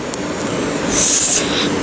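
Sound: train passing

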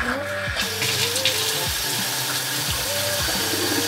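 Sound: newly installed bar faucet running water

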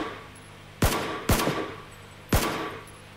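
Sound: gunfire in PUBG video game

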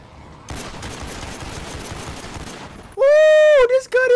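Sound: gunfire from a gun in The Walking Dead: Survival Instinct video game

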